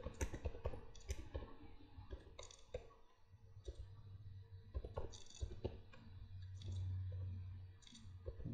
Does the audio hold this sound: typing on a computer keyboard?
yes